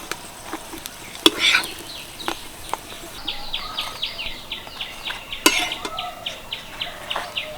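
Salad parathas fry in a pan over medium heat, a low sizzle broken by spatula taps and scrapes, with a rhythmic chirping sound running through the second half.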